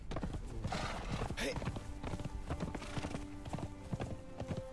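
Horse hooves clip-clop in a quick, steady rhythm in the game Conan Exiles, close and prominent, with someone talking over them and a brief whinny partway through.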